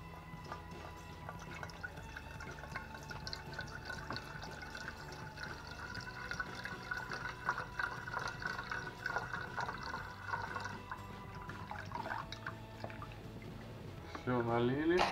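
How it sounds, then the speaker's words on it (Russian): Wine pours steadily into a pot, soft and close, with faint trickles and drips, while a person talks over it. "Наливаем его в кастрюлю."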